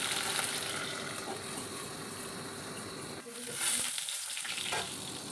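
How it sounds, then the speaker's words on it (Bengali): Pumpkin-leaf paturi filled with prawn and lentil paste frying in a pan, a strong continuous sizzle with some stirring and scraping, the hiss dipping briefly then rising again, and a faint voice in the background. "এপিট ওপিট করে লালচে করে ভেজে নেব"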